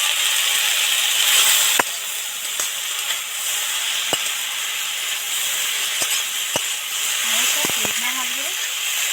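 Okra frying in a pan with ground cumin, coriander and chili for an okra and potato dopiyaza: a steady, loud sizzle and hiss, broken by sharp scraping clicks as it is stirred, with a voice briefly audible.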